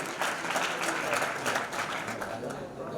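At a community awards ceremony, a crowd claps loudly and continuously for a few seconds, with voices mixed in beneath the dense applause.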